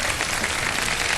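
Studio audience applause during a live Ramadan iftar television show, a steady dense wash of clapping at moderate level that holds evenly throughout without any talk over it.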